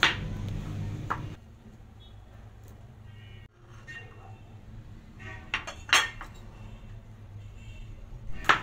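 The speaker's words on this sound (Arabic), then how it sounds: "وبعدين هجيب ليمونه كده واشقها نصين" A kitchen knife halves a lemon: a few soft cuts and light clinks of the blade against the board, fairly quiet and sparse, with no one talking.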